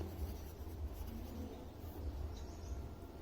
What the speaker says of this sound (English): So we'll write the answer here.